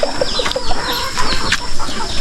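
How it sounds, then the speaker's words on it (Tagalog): Chickens cluck and call repeatedly on a rural Filipino farm, several birds close by with a rooster-like crow amid steady outdoor ambience and occasional wing flaps. "Ayan may mga manok doon."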